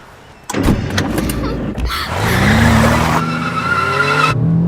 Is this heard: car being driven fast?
yes